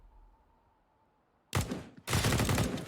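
Flashbang grenades go off during a competitive shooter video game match: after a near-silent lull, two loud, sharp bursts land about half a second apart, the second one longer and sustained.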